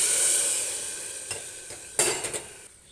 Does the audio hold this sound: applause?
no